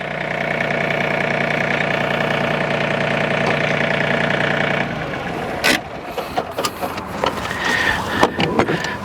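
A John Deere 3025E compact tractor engine idles steadily and fairly close for about five seconds, then shuts off, leaving scattered clicks and handling noises.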